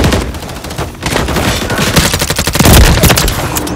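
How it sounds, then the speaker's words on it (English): Dense, continuous automatic gunfire in a Call of Duty: Modern Warfare III multiplayer match, loud bursts overlapping with booming impacts and no pause throughout. "Taking fire over here."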